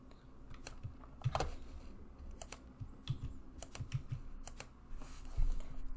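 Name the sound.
typing a password on a computer keyboard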